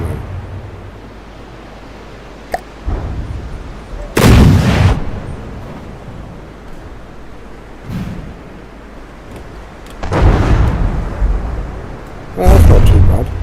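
A 150mm cannon fires in a video game, with repeated heavy booming blasts at irregular intervals over steady background rumble, several loud and close.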